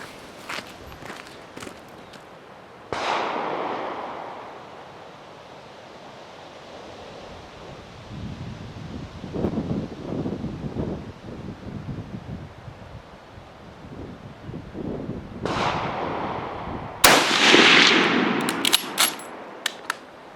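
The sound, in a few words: Enfield rifle firing ten rounds at 200 meters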